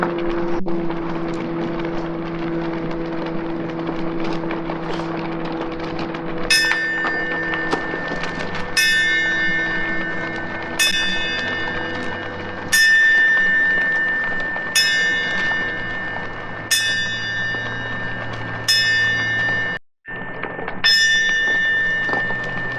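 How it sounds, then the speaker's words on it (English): A ceremonial bell rung eight times at steady intervals during a moment of silence at a season opening, each clear metallic strike ringing out over quiet outdoor wind noise. "And we ring 8 bells during the moment of silence."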